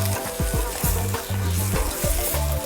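Beef sautéing in a pan with spices and fermented tauco, a continuous close sizzle and crackle broken by repeated scraping stirs across the pan surface.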